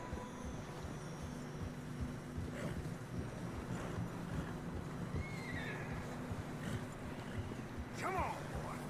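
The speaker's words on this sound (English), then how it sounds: "Horses are struggling." Horses in Red Dead Redemption 2 whinnying and snorting while struggling through deep fresh snow, with muffled hoof steps and several neighs rising over a steady ambient bed; a voice speaks briefly.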